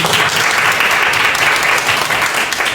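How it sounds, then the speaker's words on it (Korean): Dense, steady applause from a seminar audience at a church family seminar, many hands clapping loudly and continuously throughout with no talk over it. "우리 안시영 선생님 박수 두 배로 받습니다."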